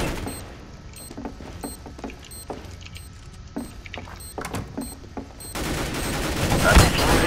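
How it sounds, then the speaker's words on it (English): Rapid gunfire crackles in CS:GO on the Safehouse demolition map as shots hit the bomb, a dense run of close, sharp bangs under faint background noise, ending in a louder rush. "That's shooting the bomb."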